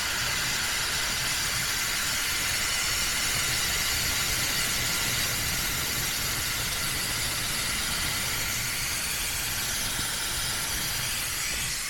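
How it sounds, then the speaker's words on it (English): Brake fluid being drawn out of a Yamaha R9's brake system with a hand-pumped vacuum bleeder makes a steady, close hiss that runs unbroken and loud the whole time. "pull this little handle, and that's just going to suck brake fluid out of there"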